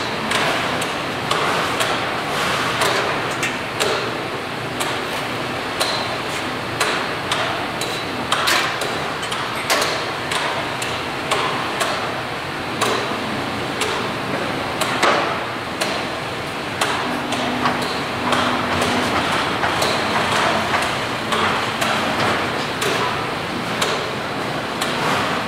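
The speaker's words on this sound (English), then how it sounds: "Going to run a full cycle on the machine." A plastic vacuum forming machine with PLC heat control and overhead assist runs a full cycle, giving a steady mechanical hum with repeated knocks, clacks and sliding bangs throughout, fairly loud and close with no talk.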